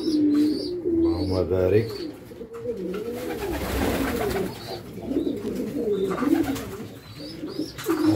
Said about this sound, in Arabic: أنا نشوفوا الحمام هنا وياكلوا